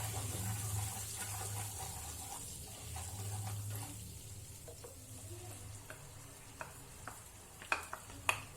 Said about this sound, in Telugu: అండ్ ఇందులో మనం ఆనియన్ పేస్ట్ చేసుకున్నాం కదా, 2 ఆనియన్స్, ఆ పేస్ట్ వేస్తున్నాను